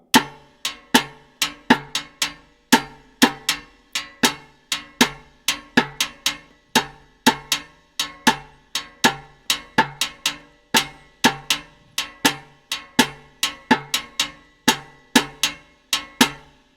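Cascara pattern struck on the shell of timbales in 3-2 clave, a steady run of sharp, bright metallic clicks with accented groupings repeating evenly, close and alone with no talk.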